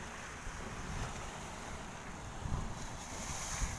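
Sea waves along the Alexandria shore, a steady rushing wash with soft surges and heavy wind buffeting the microphone, no voices.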